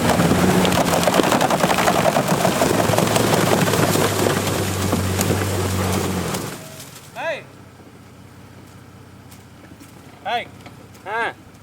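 An off-road truck stuck while wheeling revs hard with its tires spinning, a loud, rough engine roar and churning for about six seconds. The roar then cuts off, leaving quieter moments with brief voices talking.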